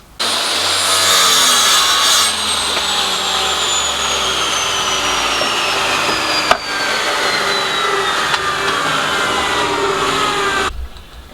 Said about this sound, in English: Now I've cut the piece off that oak that I was using the other day.